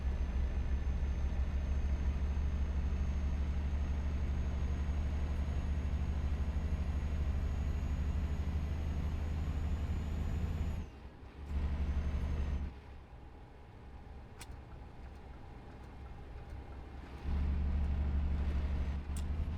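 Modded Scania S540 truck in Euro Truck Simulator 2 drones with a deep, steady engine note, dropping away briefly twice as gears change and then returning to a loud, low rumble.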